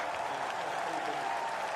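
A crowd at a New Zealand versus Australia test cricket match applauds, a dense, steady wash of clapping from a large stadium audience, heard alone for a couple of seconds.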